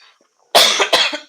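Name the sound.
cough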